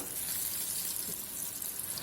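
Chickpeas frying in hot oil until crisp and golden, a steady soft sizzle and bubbling hiss with no talk.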